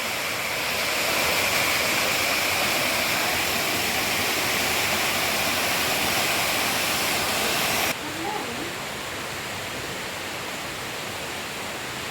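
A waterfall at Amakunda in Malkangiri pours over rocks in a loud, constant rushing roar that drops abruptly to a softer, steady wash partway through.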